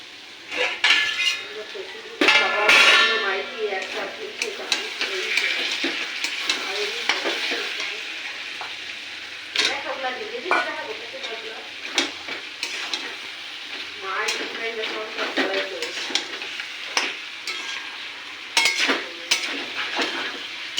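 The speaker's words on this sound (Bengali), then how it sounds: "মটনটা আর একটু কষানো হবে, এখনো ভালো কষানো হয়নি।" Mutton being stir-fried for kosha in a pan, a steady sizzle broken by repeated scraping and clinking of a spatula against the metal, close and continuous throughout.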